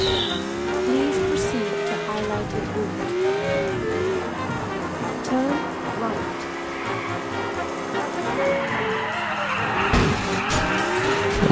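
A car drifting in the video game GTA IV, with a loud engine roaring continuously and tires squealing through the slide, up close and steady over about eleven seconds.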